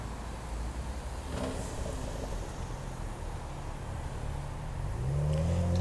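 Cars pass through the street intersection at Lexington and Western Avenue in Los Angeles, a steady broadband traffic rush with an engine swelling louder near the end.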